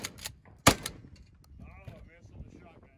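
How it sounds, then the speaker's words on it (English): Shotgun blasts at knockdown targets on a gunfighter match stage: a loud sharp report near the start and a heavier one at mid-clip, with a short echo tail and faint background noise between. "the stage was finished with the Model 12 shotgun on four knockdown targets"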